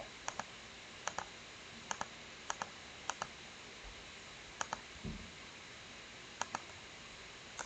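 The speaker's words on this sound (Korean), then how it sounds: "여기서 더블 클릭을 딱 하면 이제 끝나죠" Sharp computer mouse clicks, several in pairs as double-clicks, repeat at irregular intervals while an outline is traced on a cephalometric X-ray in V-Ceph 5.5, close and distinct over quiet room tone.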